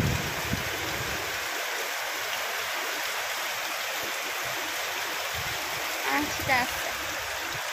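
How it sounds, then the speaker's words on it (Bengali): Heavy rain pours in a dense, steady roar close by, with a voice briefly speaking over it near the end. "হেভি বৃষ্টি হচ্ছে।"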